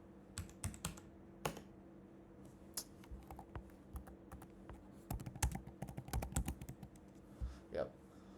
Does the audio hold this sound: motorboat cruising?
no